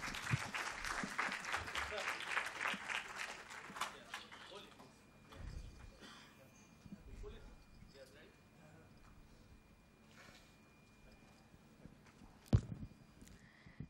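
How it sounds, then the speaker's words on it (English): Applause from a conference audience, dense clapping for the first four seconds, then thinning into scattered claps and low background voices, with a sharp knock near the end. "Please give him a big,"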